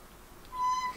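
A cat gives a single short, faint meow near the end of a quiet moment.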